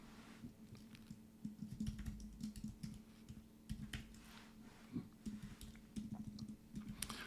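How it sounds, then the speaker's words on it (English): Quiet computer keyboard typing: a run of soft, irregular key clicks across the whole stretch, with no voices over it. "Sorry for my typing. My typing is terrible"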